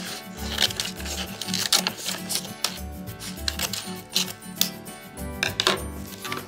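Clear tape being pulled and pressed down to seal a wrapped block, a series of close crackling rips and rubbing scrapes in uneven bursts, with no talking.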